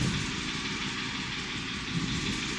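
A BMW 4 Series engine idles steadily while running a Valvetronic adaptation, giving a continuous, even low hum with a faint ticking texture. No one speaks.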